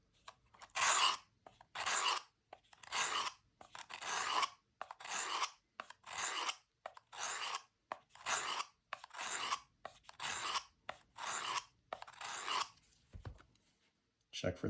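A knife blade is drawn across a coarse grit sharpening stone in about fifteen close, evenly spaced rasping strokes, each a short gritty scrape with brief pauses between.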